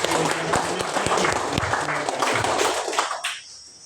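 An audience applauds at a groundbreaking ceremony for a primary school, with a dense, loud patter of clapping that a voice partly overlaps before the applause fades out.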